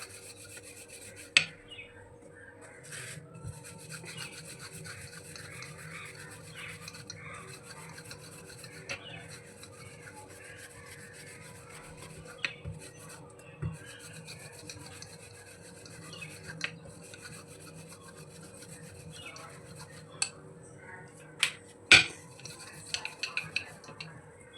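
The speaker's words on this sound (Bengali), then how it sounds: "যেরকম রুটি বেলো সেরকমভাবেই পাতলা করে এটা বেলে নেব।" A rolling pin works chicken-stuffed dough thin like roti, giving soft repeated rubbing and scraping strokes at close range, quiet and steady, with a few sharp knocks near the end.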